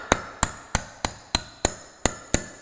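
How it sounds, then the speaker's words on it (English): A hammer strikes a pin in a CETME rifle bolt carrier, eight sharp metallic blows at a steady, even rhythm, each ringing briefly, close and clear with no talking. "I'm probably going to need a bigger hammer for that"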